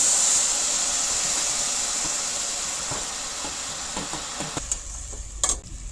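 A mango and jaggery mixture being stirred in a pan, giving a steady close sizzle and hiss with soft scraping strokes, then a few sharper clinks near the end.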